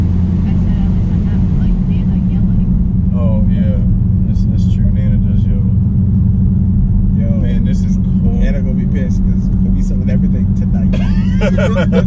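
A Dodge Charger Scat Pack driving on a side street, its engine a constant loud low rumble and road noise throughout, with people talking and laughing inside the car over it.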